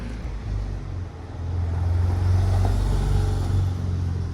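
Porsche Turbo driving past on a quiet day in Deauville, a deep engine rumble that swells from about a second and a half and holds steady, fairly close, with no talk.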